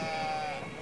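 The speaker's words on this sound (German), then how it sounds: "Was sind das für doofe Schafe?" Sheep bleat briefly in the video game Brothers: A Tale of Two Sons, one short sustained tonal call heard over a soft game backdrop.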